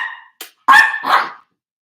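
A dog gives a few short, sharp barks up close, the first a thin whine-like yip and the last two louder and fuller, with silence around them and no talking.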